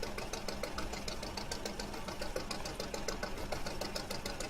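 A boat engine running steadily in the Fishing: Barents Sea video game, a constant mid-pitched mechanical chugging with a rapid, even knock throughout.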